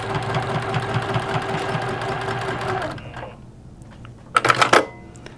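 A sewing machine stitches fabric for a reversible dog bandana in a steady, close, rapid whirring run for about three seconds, then stops, followed by a brief burst of clattering handling sounds.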